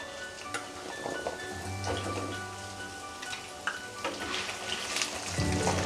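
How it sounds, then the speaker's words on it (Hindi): Arbi (taro root) frying in a pan over medium gas, a steady close crackling sizzle with scattered pops and a few scraping stirs, no voices. "पहले बस अच्छे से हमें फ्राई करना है, तब तक फ्राई करना है जब तक थोड़ा सा कलर नहीं चेंज हो जाता अरबी का।"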